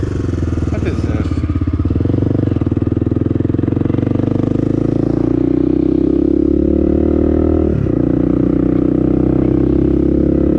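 A 1994 Honda XR250L dual sport motorcycle rides along with a steady, loud mid-pitched engine drone throughout, a brief shift in note near the end, with some wind and clatter mixed in.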